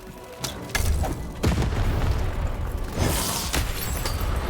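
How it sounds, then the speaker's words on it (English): A cannon fires in the video game Lost in Random, giving heavy booming blasts with a crackling rumble and debris-like bursts, loud and close over continuous game action. "Shoot the button to fire the cannon."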